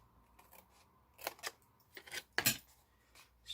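Scissors snipping straight down a paper box template for a small travel-size lotion container, a handful of short crisp cuts spaced irregularly, close and fairly quiet with brief pauses between strokes.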